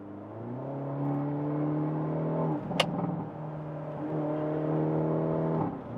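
A 2023 Hyundai Elantra N engine idles and revs nearby, settling down between revs, with a sharp crackling pop from the exhaust in the middle.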